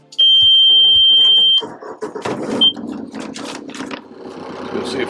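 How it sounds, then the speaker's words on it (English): Aboard a Tayana 58DS sailboat, a steady high-pitched warning beep sounds for over a second, then the starter cranks and the engine catches, settling into a close, rumbling idle that keeps running. "Let's get the engine going."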